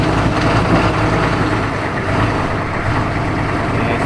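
Diesel truck engine fitted with a cheap eBay turbo runs with a steady, rough low rumble that stays close and constant throughout.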